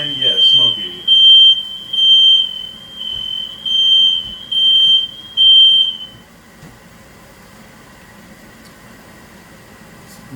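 A shrill smoke alarm near the stove, set off by smoke from cooking steak, beeps in six long, evenly spaced pulses, loud and close, then stops, leaving quiet room hum.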